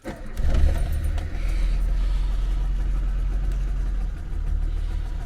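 A Citroën BX engine catches after a brief crank and settles at once into a steady, low idle rumble, heard close and continuous with no voices.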